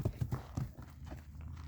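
Horse hooves stepping, a few quiet irregular thuds close by early on, then faint shuffling, no talk.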